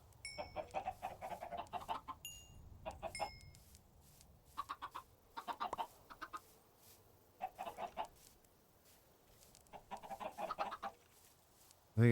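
A flock of Minecraft chickens clucking in short, scattered clusters over a soft background hum, fairly close, with brief quiet gaps between bursts.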